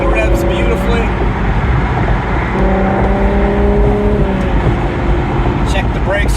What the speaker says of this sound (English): gunning the engine, even though it sounds so good when you do